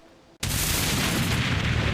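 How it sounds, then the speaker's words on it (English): Stream alert sound effect of explosions and fireworks that bursts in suddenly after a quiet moment, then holds as a loud, dense, crackling roar of blasts. "Explosions and fireworks."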